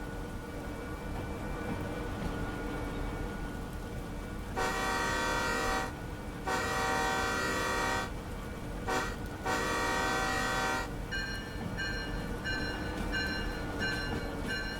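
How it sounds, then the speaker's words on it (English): Video game train rumbling along steadily, its horn tooting in several long harmonic blasts with short gaps, then a softer, higher horn note toward the end, all fairly loud over the continuous running noise. "Good train noises."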